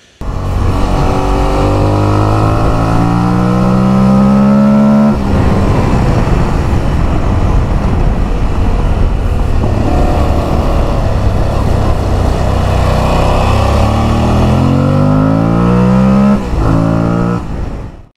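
An Aprilia Tuareg 660 rally motorcycle engine revved through an SC Project titanium exhaust, loud and close, with repeated rising rev sweeps, a rough throaty idle in the middle and a final climb before cutting off.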